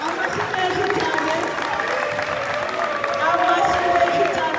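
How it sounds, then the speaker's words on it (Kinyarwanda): Continuous clapping from the audience at a trophy presentation during Rwandan community sports games in Montreal, Canada. The applause stays dense and even, with people talking and calling out on top of it. "Muhawe amashyi menshi cyane."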